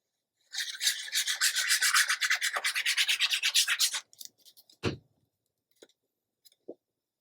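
Ink is rubbed along the edges of Graphic 45 scrapbook paper in quick, rhythmic scrubbing strokes up close, then stops, leaving a few light taps and paper handling sounds.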